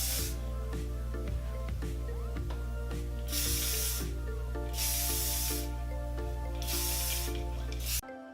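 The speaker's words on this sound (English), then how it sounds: "So what I'll do is I'll spray some hairspray on it." Hairspray hisses onto hair in three or four long bursts, close and steady, over a constant low electrical hum with no talking.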